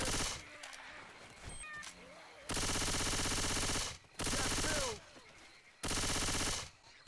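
In Left 4 Dead 2 co-op play, three long bursts of rapid automatic gunfire roar out. Between them, a thin, wavering crying wail like the Witch's drifts faintly under quieter background game noise.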